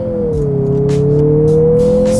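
A 2023 Mazda CX-50 with premium fuel accelerates hard in sport mode, its engine holding a steady droning tone with a faint screech of front wheel spin, close and loud inside the cabin, no talking.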